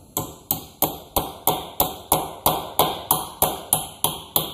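Steady metallic hammer taps on universal joint cups being installed, about a dozen evenly spaced strikes with a ringing ping on each, close and fairly loud.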